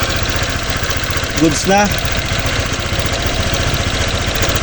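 A car engine idles steadily at close range with a smooth, even hum and no knocking, while someone briefly speaks over it.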